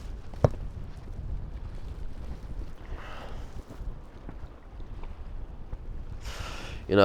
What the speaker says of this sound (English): to stop the wind from hitting my face as well